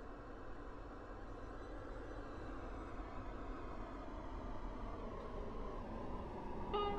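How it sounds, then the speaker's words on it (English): A low, steady rumble of a video game train rolling into a station platform, growing slightly louder, ending with a brief electronic chime or tone. "The train now approaching platform 5 terminates here."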